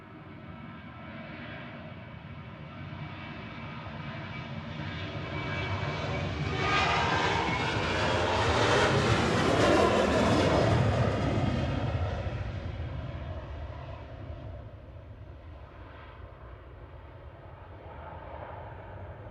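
A Ryanair passenger jet at Manchester Airport passes overhead, its engine roar building steadily to a loud peak midway, then easing off into a fading rumble.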